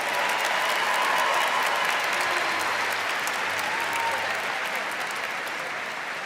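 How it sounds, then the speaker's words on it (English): A large commencement audience gives sustained, even applause for master's degree recipients, a broad roomy wash of clapping that holds steady throughout with faint voices underneath. "give another big round of applause to our master's degree recipients"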